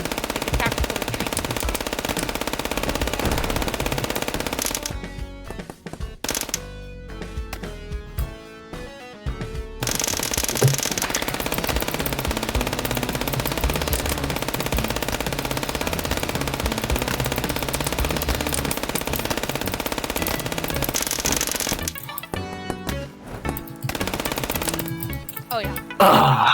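Rapid automatic gunfire from an FPS Chess video game battle, with long sustained bursts of machine-gun fire interrupted by brief gaps, loud and close throughout.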